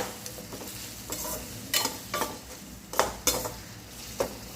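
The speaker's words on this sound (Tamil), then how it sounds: "சேர்த்துட்டு அந்த வெங்காயத்தை கூடவே அப்படியே வதக்கிக்கலாம்." Chopped onion and crushed garlic sautéing in a pan for bitter gourd chukka, a steady sizzle broken by repeated scraping stirs of a spatula against the metal, close and fairly quiet with no talk.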